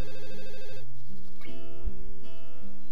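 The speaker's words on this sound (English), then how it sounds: "it becomes obvious that the sound coming from her phone" Electronic phone ringtone in the video game Katawa Shoujo, a looping melodic chime, clear and close, with a brief low thump partway through.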